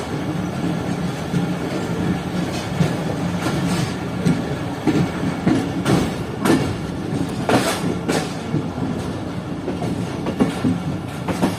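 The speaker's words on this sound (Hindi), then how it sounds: "ये ट्रेन भी पूरी पैक है, चल रही है इस वक्त।" The Rehman Baba Express, a crowded passenger train, runs loud and close through cold winter fog, its steady rumble broken by repeated clickety-clack wheel hits and rattles, with no voices.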